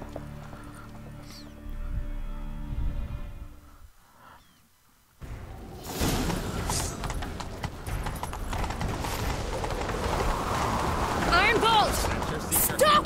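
Horse hooves clip-clopping at a gallop in The Witcher 3, a steady pounding rhythm that picks up after a brief lull, with game music and voices running over it.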